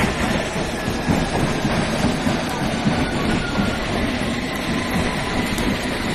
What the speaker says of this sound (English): here we go, here's the tube